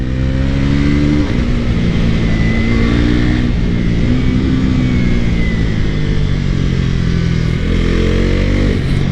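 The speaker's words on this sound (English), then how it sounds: "I'm riding the NS 400Z 2025 model. This is my latest bike." A 2025 Bajaj Pulsar NS400Z motorcycle under way, its engine droning loudly and steadily close up, with the pitch rising through several gear changes and no voices.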